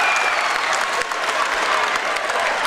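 Loud, steady cheering and applause from a packed crowd at a high school boys' varsity basketball game between Lorain and Olmsted Falls, filling the gym continuously and swelling in brief bursts.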